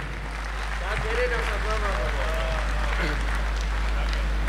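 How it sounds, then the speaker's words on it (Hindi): A mushaira audience in Pune gives loud applause welcoming a poet, a continuous crowd clapping under a steady low hum, with voices heard over it. "जोरदार तालियों में इस्तकबाल कीजिए"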